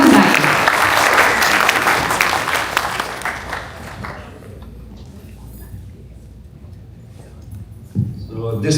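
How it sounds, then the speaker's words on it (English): Gala audience applauding in a hall, a dense round of clapping that tapers off after about four seconds, with murmuring voices underneath. "I think we deserve a larger round of applause for Hemant Bhai."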